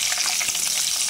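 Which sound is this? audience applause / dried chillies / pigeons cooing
dried chillies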